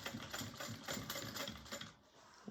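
A sewing machine stitches a bag, a close, rapid rhythmic chattering of the needle in short bursts that pauses briefly near the end before restarting.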